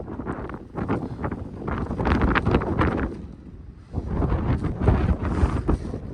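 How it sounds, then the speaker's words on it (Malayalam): Strong wind at Poksundo, a mountain village, buffets the microphone in heavy roaring gusts that swell, dip briefly near the middle, then surge again, loud and close throughout with no talking. "കിടിലം കാറ്റാണ്, കിടിലം കാറ്റ്."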